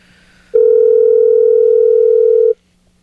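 A single steady telephone tone on a call line, loud and unbroken for about two seconds before cutting off, with faint background hum before and after.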